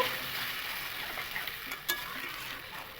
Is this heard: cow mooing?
no